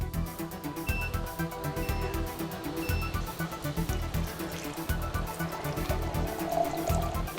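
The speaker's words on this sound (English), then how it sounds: "I'm going to fill it up with 150 cc's of regular tap water" Regular tap water running and being poured into a beaker, a continuous splashing, gurgling fill with irregular bubbling pulses, close and steady throughout.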